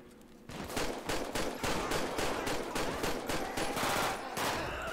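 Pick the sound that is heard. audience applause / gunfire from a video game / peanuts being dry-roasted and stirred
gunfire from a video game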